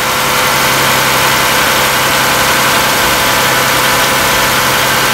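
A Toyota Camry engine runs continuously while the car is driven, a loud steady drone with broad road and wind roar and no pauses.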